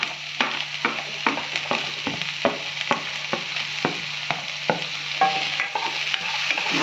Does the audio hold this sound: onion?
yes